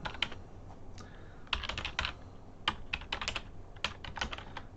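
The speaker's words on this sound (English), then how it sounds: "type in git clone and type in the URL" Close, crisp keystrokes on a computer keyboard as a git clone command is entered, coming in irregular clusters of quick taps with short pauses between bursts, over a low, steady background hum and no talking.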